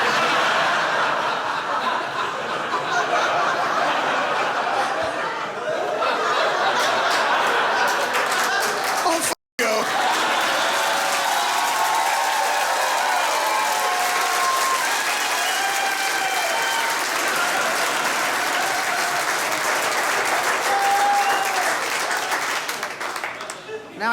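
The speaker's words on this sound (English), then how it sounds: "Don't clap too long." A comedy club crowd at an Artie Lange stand-up show applauds long and hard, a dense sustained wash of clapping with laughter, chuckles and cheers mixed in, briefly cut off once before continuing steadily.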